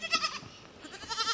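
Goats on a farm bleat in quick, wavering cries, loud and close at the start and again near the end, with a quieter stretch between and no talk.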